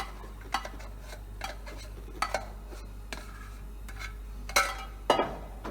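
A thickening éclair mixture of milk on the stove is stirred in a pot: intermittent scraping and clinking strokes at an irregular rhythm over a low, steady hum, close and quiet, with no talking.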